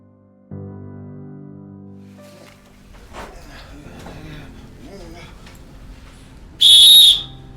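An emergency whistle blown to call for help, heard as one loud, piercing shrill blast near the end after low rumbling and scattered quieter sounds.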